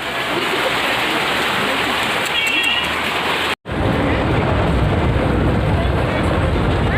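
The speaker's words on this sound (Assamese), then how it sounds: "ইমান বৰষুণ" Heavy rain pours steadily and loudly, a dense continuous hiss that cuts out for an instant midway before resuming just as strong.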